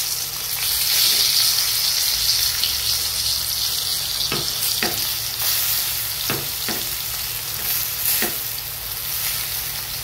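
Flipped eggplant slices fry in a pan with a loud, dense, steady sizzle up close, marked by a few sharp clicks of a utensil against the pan.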